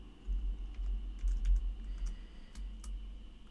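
A password is typed on a computer keyboard: a short run of quick, light key clicks in irregular bursts, close and alone.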